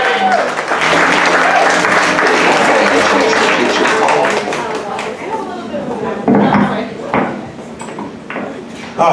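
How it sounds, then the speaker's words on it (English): Comedy club audience applauding and cheering loudly and steadily after a comedian is introduced, the clapping dense for several seconds before thinning into scattered claps. "Another round of applause, please, for Jill, Matt, Mike, Jake, our sound guy."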